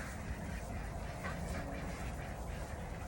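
Ducks quack repeatedly inside a greenhouse fitted with waterers and a 55-gallon barrel, their calls moderately close and mixed into a steady background of bird noise.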